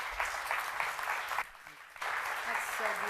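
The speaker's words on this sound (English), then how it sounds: "Let's have a nice round of applause for both chefs." An audience at a chefs' cooking challenge gives a round of applause, a quiet, steady wash of clapping with a brief dip in the middle, with a voice talking over it.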